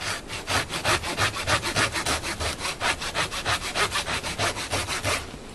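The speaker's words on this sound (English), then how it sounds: "I'm trying to cut a notch on the back." Hand saw cutting a notch into the back of a tree trunk during felling, with steady rhythmic back-and-forth strokes of about four per second, close and loud without talk.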